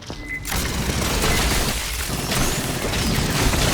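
Dense, continuous bursts of rapid gunfire fill a hectic firefight in the video game Aliens Fireteam Elite, loud and sustained with overlapping shots and impacts throughout.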